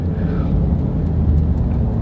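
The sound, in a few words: Cobb-tuned Ford Raptor truck accelerating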